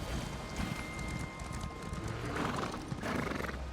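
Horse hooves clip-clop steadily in Elder Scrolls Online, with a clear neigh and whinny rising above the trotting, close and moderately loud, with no talking.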